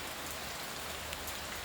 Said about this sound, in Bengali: এইখানে বৃষ্টি পড়ার সাথে সাথে শব্দ হচ্ছে, মানে ভালো জোরেই বৃষ্টি হচ্ছে।